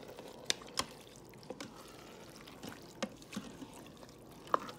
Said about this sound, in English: I'm gonna go ahead and just stir this up.